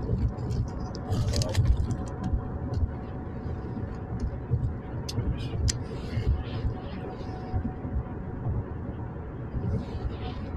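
Cars driving past on a road heard from inside a vehicle, a continuous low rumbling road noise with a few brief louder swells and scattered clicks, no talking.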